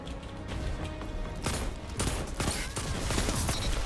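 Revolver shots in a shooter video game ring out as a string of sharp reports over a dense, busy game soundscape of continuous noise and other gunfire.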